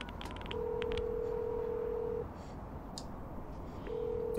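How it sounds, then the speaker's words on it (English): A phone rings in the video game Beyond Two Souls, a steady electronic tone sounding in two bursts, the first lasting nearly two seconds and the second starting near the end, over a quiet ambient background. "You're not gonna answer the phone?"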